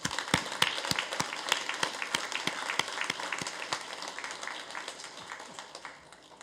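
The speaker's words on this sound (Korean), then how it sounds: "우리 박수로 축하하겠습니다" A church congregation claps in celebration during a Sunday worship service, a dense round of many hands with sharp individual claps standing out, steady at first and then thinning and fading toward the end.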